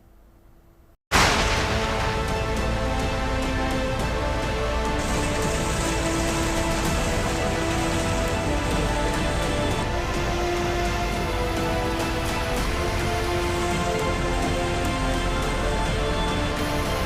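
Heavy rain pounding down during flooding in Gujarat, starting abruptly after a brief quiet moment and then roaring loud and continuous, dense drops hammering surfaces with no voices.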